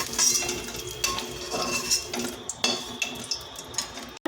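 Metal utensils clink and scrape against a wok as fried eggplant is lifted out, with a faint sizzle of oil underneath; a series of close, sharp clatters.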